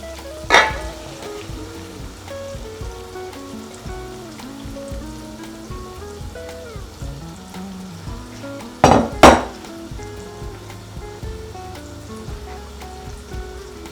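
Minced chicken thigh frying in a pan for a pea keema curry, a steady low sizzle with sharp utensil scrapes and clatters against the pan near the start and again later, no voices.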